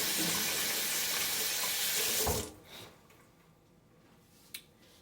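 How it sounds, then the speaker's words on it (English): Hands are rinsed under a running kitchen tap after handling onion, a steady rushing splash of water for about two seconds that stops abruptly, leaving quiet room sound and a single soft clunk near the end. "Wash my hands from the onion"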